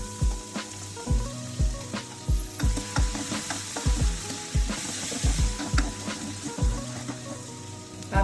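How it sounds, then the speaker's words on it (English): Cumin seeds and crushed ginger garlic sizzle in hot oil for a home-style egg biryani, a steady loud crackle broken by repeated clanking stirs and scrapes of a spoon against the pan, with no voices. "Once the oil is hot, adding cumin seeds. Adding crushed ginger garlic."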